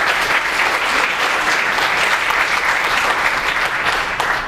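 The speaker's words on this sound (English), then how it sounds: "Please give a big round of applause to our guest speaker." Loud, sustained applause from a lecture audience greets a guest speaker at a public lecture, a dense even wash of clapping that holds steady before easing slightly at the end, with no talk over it.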